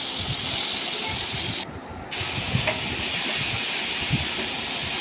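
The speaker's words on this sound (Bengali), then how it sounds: "এবারে শাকগুলো দিয়ে দেব।" Water spinach greens go into a hot pan, giving a loud, steady hiss of sizzling steam that drops briefly for a moment, then continues with a few soft knocks.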